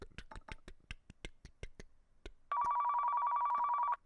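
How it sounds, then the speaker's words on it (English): A phone rings in a Car Mechanic Simulator 2015 session: a quick series of sharp clicks or taps is followed by a loud, sustained electronic ring tone lasting about a second and a half. "I can hear your phone."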